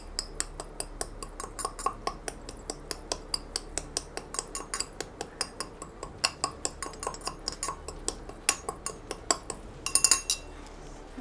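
Three peeled cardamom pods being crushed by hand, a steady rhythm of sharp, bright clinking taps, roughly three per second, close and moderately quiet, quickening into a brief flurry near the end.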